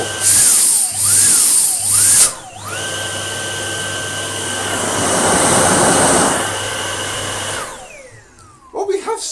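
A Dyson DC49 digital cordless-style vacuum cleaner awaiting refurbishment has its motor switched on. A high whine pulses and wavers, then spins up into a steady, loud, rising tone that runs for several seconds before winding down and cutting off.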